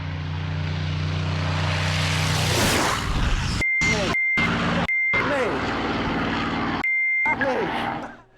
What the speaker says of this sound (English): thank you for doing all the beeping for me there, Steve.